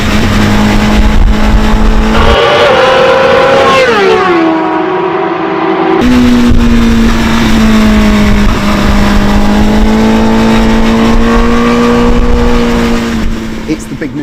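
A Honda CBR1000RR-R SP Fireblade superbike engine idles steadily, then revs up sharply and settles back into a loud, continuous rumble up close.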